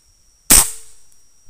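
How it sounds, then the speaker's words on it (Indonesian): A single sharp air rifle shot fired while zeroing a scope at close range, a crisp loud crack with a short ringing tail in an otherwise quiet setting. "kita tembakkan sekali lagi di sini."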